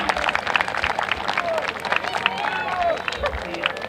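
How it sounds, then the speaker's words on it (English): Crowd applause and cheering fill a graduation ceremony hall as the audience honors graduates' families, a steady dense wash of clapping with voices and whistles mixed in throughout. "please give them a round of applause"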